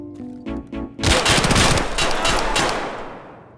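A scav opens fire in Escape From Tarkov: a few sharp shots, then a loud, rapid burst of automatic gunfire close by that rattles on before tailing off.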